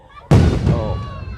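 Fireworks burst downtown in one sudden loud boom that rings out and slowly decays, with a quiet low background before it.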